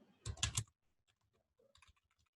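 A commit message is typed on a computer keyboard in a quick burst of close, crisp keystrokes, then a pause and a second shorter flurry of clicks.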